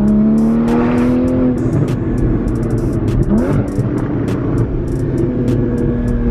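GT4 sports car on a retired go-kart track, engine loud and close as it revs up and down, with rising and falling pitch and a raspy, continuous roar throughout.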